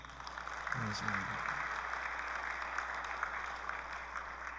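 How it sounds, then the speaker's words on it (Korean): Congregation in a church clapping to welcome a guest, a steady broadband patter of hands under a brief spoken thank-you near the start. "우리 박수로 환영합시다"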